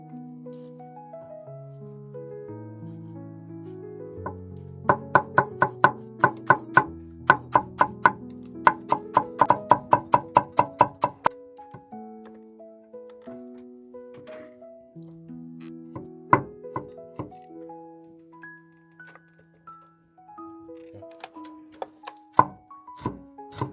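A knife chops through bony fish for Hengxian-style raw fish: bursts of rapid, crisp blade strikes on a board, then scattered single chops, with soft melodic music playing underneath.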